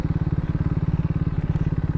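A Triumph Tracker 400 motorcycle rolls over a speed breaker, its single-cylinder engine thumping in a steady, rapid, loud pulse close to the rider.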